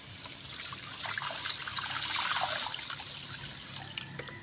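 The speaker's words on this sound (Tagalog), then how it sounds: "Lalagyan na po natin ng tubig yan." Water is poured steadily into a cooking pot of pork tinola after seasoning with salt and pepper, a continuous trickling splash lasting several seconds with no talking over it.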